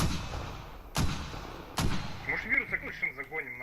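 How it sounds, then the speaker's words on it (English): Video game mortar rounds landing: two sharp, heavy impacts about a second apart with rumbling tails, followed by fainter popping and a high whistling tone as a voice calls out over the action. "Mortars are coming in for proG."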